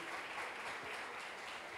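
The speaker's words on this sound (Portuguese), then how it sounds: "Dê uma salva de palmas pela vida do André" Congregation applauding at a church service in honour of André, a steady wash of hand claps at moderate, somewhat distant level with no distinct individual claps.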